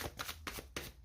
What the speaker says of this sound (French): on va mettre une carte dessus.